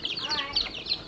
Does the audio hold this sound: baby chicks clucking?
yes